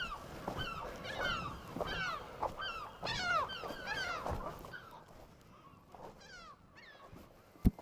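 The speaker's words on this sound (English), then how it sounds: "Seagulls are loud." Seagulls call loudly and repeatedly on Inchkeith island in the Firth of Forth, Scotland, with a rapid run of harsh, rising squawks up close that thin out and grow fainter toward the end.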